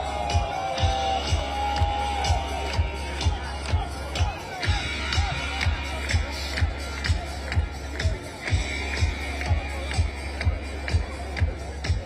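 A crowd at a Trump rally in Crotona Park in the Bronx murmurs and shuffles under a steady low hum, with sharp rhythmic clicks or taps cutting through the babble throughout.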